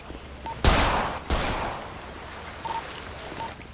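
Gunfire in a first-person shooter video game: two sharp, loud broadband blasts close together near the start, trailing into a noisy, echoing tail with faint game beeps.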